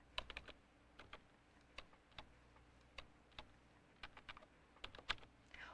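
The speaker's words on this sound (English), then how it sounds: "or use the numbers on my keyboard." Keys on a home computer keyboard are typed in an irregular run of crisp clicks to enter numbers, close and fairly quiet, with no voice over them.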